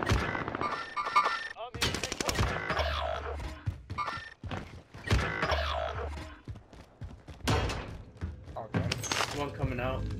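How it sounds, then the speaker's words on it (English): Gunfire in the Call of Duty Vanguard Warzone video game, with sharp bursts of shots and impacts in clusters between gaps, close and loud, mixed with a player talking over it. "Under heavy fire here."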